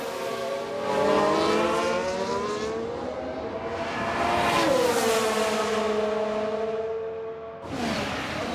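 Race car engines from the F1 Manager 22 video game during a replay featuring a Ferrari, with sustained high-pitched engine whines that rise and fall in pitch as cars pass, loud and continuous with a brief dip near the end.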